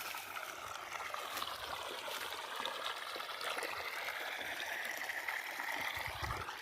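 Irrigation water flows into a tobacco field, a steady rushing, trickling stream that gurgles continuously and fairly faintly at close range, with no voices.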